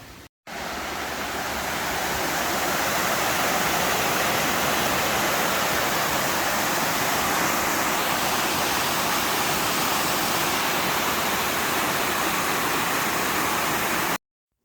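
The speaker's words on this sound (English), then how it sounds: "That's the water that leads to the waterfall we saw earlier." Water rushes through a stone tunnel toward a waterfall at an old mill site in Lumbutts Clough, Todmorden, a loud, constant, broadband roar that fills the whole stretch without pause.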